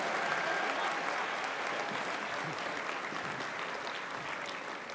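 A large convocation audience applauds graduates of a social and community services school, a steady dense wash of clapping in a big hall, holding even and loud for the whole stretch, with faint voices underneath.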